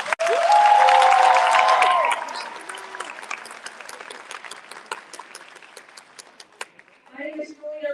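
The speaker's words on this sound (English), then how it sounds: "Let's give everybody a round of applause." Applause and a few cheers fill a high school graduation ceremony, loud at first with excited voices rising over it, then thinning into scattered claps that fade before someone begins speaking.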